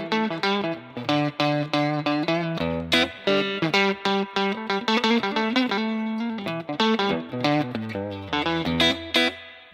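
Electric guitar played through an Ox Amp Top Box with a 112 Greenback cabinet, a distorted riff of rapid chords and single notes with some modulation and reverb, steady and full-bodied, with no voices.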